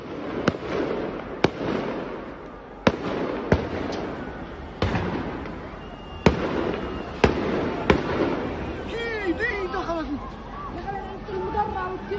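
Firecrackers go off in sharp, loud single bangs, roughly one every second or so, during street clashes between Palestinians and occupation forces, with crowd noise and shouting in the background and whistling fireworks near the end.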